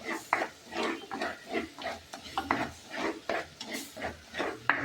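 Fish curry ingredients are stirred in a pan in steady rhythmic scrapes, roughly two per second, close and moderately loud with a soft sizzle beneath.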